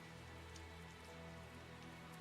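Rain falls steadily in the video game Tales of Zestiria, a soft, constant patter of drops with no voices, faint and even throughout.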